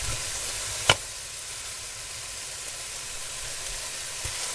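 Ground meat and vegetables for a cottage pie frying in a pan, giving a steady soft sizzle, with one sharp utensil clack near the start and a faint tap near the end.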